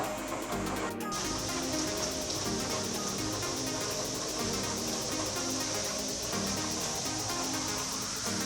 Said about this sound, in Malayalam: ഇന്ന് മഴ പെയ്ത് നല്ല മഴ പെയ്തുകൊണ്ടിരിക്കുക